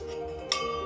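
A metal lid is lifted off a cooking pot of bread baking on the stove, giving one sharp ringing clink midway that lingers over a quiet background hum.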